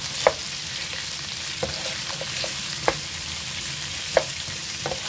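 Squid stir-fries over high heat with roasted chili in a pan, a continuous hiss of sizzling broken by a few sharp clacks of a utensil against the pan, with no talking.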